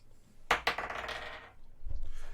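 Dice clatter onto a table during a tabletop role-playing game, a quick pair of hard hits followed by a short rattling tumble that settles within a second, with no talk.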